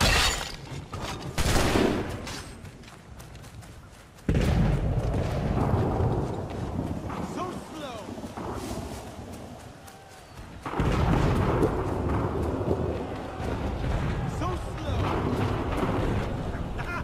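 Battle of Bunker Hill gunfire in Assassin's Creed 3, with heavy volleys of musket shots and booming blasts bursting out loudly in waves over a rumbling battlefield din.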